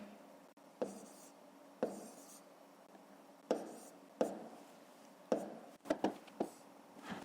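Writing a number down by hand while working a fifth-grade math factoring exercise: quiet, separate pen or chalk strokes, about eight short scratches at uneven intervals with a quick cluster near the end, close and faint.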